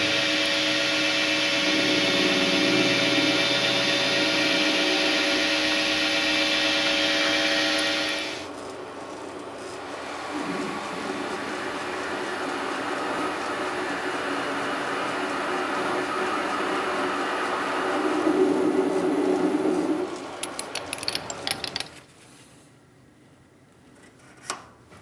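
Machine facing a metal part for a diamond drag engraver, a steady motor whir with grinding cut noise, a sudden change as the cut stops, then renewed cutting, rattling and winding down to near quiet.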